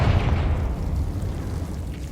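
A Confringo explosive spell in Hogwarts Legacy lands with a loud, close boom that fades into a low rumbling tail.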